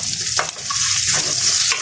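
Beef noodle pasta stirred in a frying pan, a steady loud sizzle with scraping strokes of the utensil repeating every half second or so, close up and with no voices.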